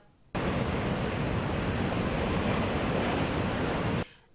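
Godavari floodwater roars through 26 lifted dam gates, a dense, steady, loud rush of water that starts abruptly and holds constant for about four seconds before cutting off.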